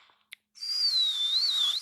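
One person whistles a single sustained tone that wavers slightly up and down, close and clear, after a short click and a moment of quiet.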